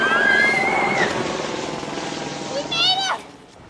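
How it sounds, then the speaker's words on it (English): A hired helicopter hovers above a Benedict Canyon house pool, its rotor noise steady and fairly loud, with whistling tonal sounds and voice-like murmuring mixed in over it. "Two girls hired a helicopter and leapt from it into their pool."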